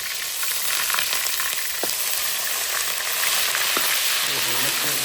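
Onions frying in very hot oil in a village kitchen, a dense, loud continuous sizzle with a couple of faint clinks, steady throughout and no speech over it.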